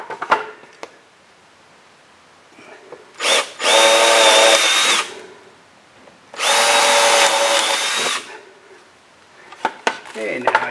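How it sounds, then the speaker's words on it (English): A power drill countersinks holes in a wooden boat plank during an epoxy scarf repair, whining in two loud, steady bursts of about one and a half seconds each, with light clatter around them. "now I just have to countersink these."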